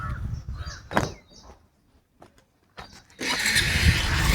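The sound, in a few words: vehicle engine starting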